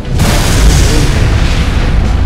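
A loud, sustained explosion booms in Team Fortress, a broad rumbling blast that fills the whole stretch with dense low roar and no talk over it.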